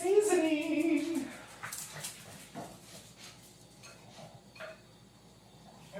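A French bulldog and pugs whimper and whine close by in high, wavering cries that are loudest at first and then trail off into softer snuffles and small yips, with no talk over them.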